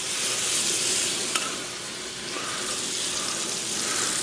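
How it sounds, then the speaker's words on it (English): Loud, steady sizzling of seasoned short ribs searing in a hot pan, a bright crackling hiss that continues throughout with a faint clink. "I'm going to start with that side down. Hear that nice sizzle?"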